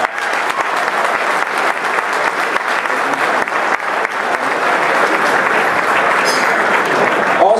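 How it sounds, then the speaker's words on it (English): Loud, dense audience applause at a Venison 2017 event honoring first responders, a continuous crackle of many hands that swells slightly toward the end. "So a big round of applause for them."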